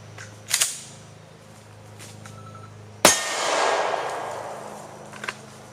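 A pistol slide is racked with a sharp metallic clack, followed by a fainter mechanical clatter and a light click, close by in a quiet room.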